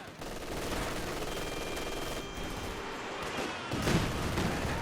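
Distant gunfire and explosions from a Company of Heroes 2 battle, with mortar shells landing amid a steady din of machine-gun fire and a louder burst near the end.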